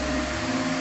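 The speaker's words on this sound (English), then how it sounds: "one final gentle vacuum" A vacuum cleaner gently drawing mould off a painting, a steady close motor whine and airflow hum holding constant and fairly loud without pause.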